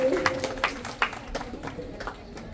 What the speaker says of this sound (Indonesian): Tepuk tangan yang meriah untuk Kang Agung Gumelar.